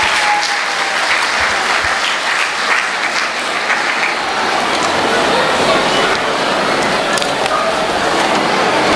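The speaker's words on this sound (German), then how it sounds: "Einen großen Applaus bitte." Loud, sustained applause from a large audience fills the whole stretch, a dense steady wash of clapping with a few scattered voices mixed in.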